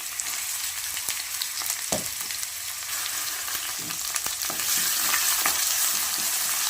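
A medium onion frying in a pan for potato kurma, with a steady close sizzle and hiss, occasional spoon taps and stirring scrapes, growing slightly louder toward the end, no talking.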